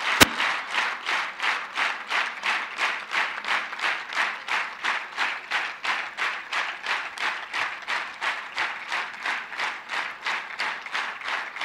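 An audience at a corporate HR event gives sustained rhythmic applause for Kanisha Bansal, clapping in unison at a steady beat for several seconds, loud and close with no talk.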